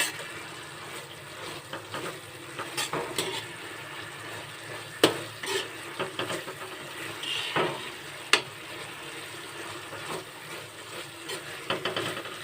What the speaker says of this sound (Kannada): ಸೊ ನಾವು ಈ ಥರ ತಿರ್ಸ್ಕೊತಾನೆ ಇರಬೇಕು.